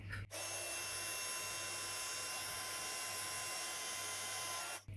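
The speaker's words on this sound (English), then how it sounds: "the Violetera embossing powder. And then I'm going to heat that up." A heat gun melting violet glitter embossing powder on a card background blows with a steady, loud whirring hiss that starts abruptly and cuts off near the end, with no talking.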